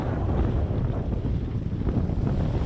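Steady wind roars and buffets the microphone on a sailboat at sea in the evening, a loud continuous rush with no voices.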